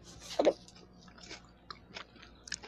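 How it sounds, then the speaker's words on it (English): Someone chewing fresh coconut close to the mic, a sharp crunchy bite followed by softer, irregular moist chewing sounds, quiet with no talking. "Hear the ASMR when she chews it"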